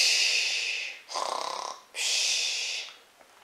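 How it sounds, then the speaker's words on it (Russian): A man snores in his sleep, loud and close, with a long rasping inhale, a fluttering snort, then another long breath that fades away. "Ой, как ты храпишь."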